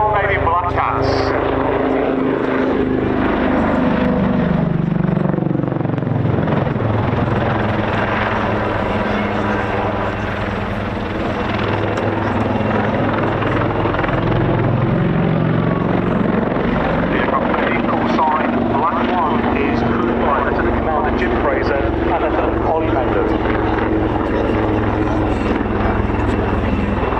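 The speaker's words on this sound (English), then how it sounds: "approaching the ground centre at 100 feet and 130 knots" Royal Navy Black Cats display helicopters flying at an air show, a loud sustained rotor and engine roar that swells and sweeps past, with a commentator talking over it throughout.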